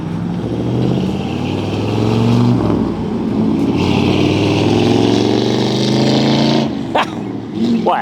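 The engine of a 1961 Chevrolet Impala with a 409 V8 idles and revs with a deep, rumbling roar that swells midway, heard close up, with a brief sharper noise near the end.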